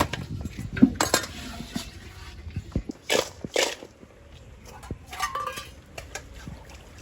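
Live crabs being dropped into a cooking pot on a village stove, with metallic clinks and clatters of the pot and lid in scattered bursts, close and moderately loud.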